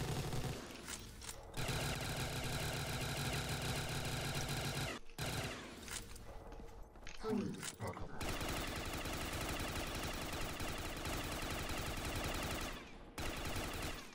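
Machine gun fire in a video game gun-game match, with long sustained automatic bursts that are loud and dense, broken by a few brief pauses.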